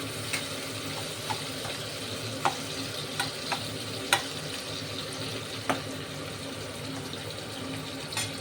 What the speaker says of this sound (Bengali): ওই তেলটার মধ্যে পেঁয়াজ দিয়ে দিলাম